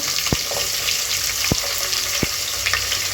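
Chopped onions fry in hot oil in a pan for Ambur biryani, a steady bright sizzle and crackle with a few sharp clinks of a stirring spoon against the pan.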